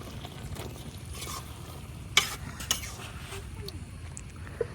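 Taro stems simmering into a curry with salted hilsa and whole green chillies, stirred with a few sharp clinks of a spoon against the pot over a steady low sizzle, with no talking.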